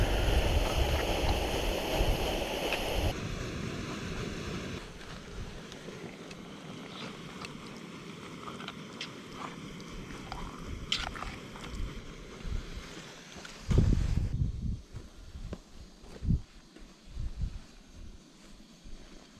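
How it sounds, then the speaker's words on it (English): Wind sweeping across a winter campsite in northern Minnesota, a loud, steady blustery roar with gusts buffeting the microphone, easing into quieter rustling and bumps of nearby activity. "Our nice sunny day kind of went away with the wind and the clouds."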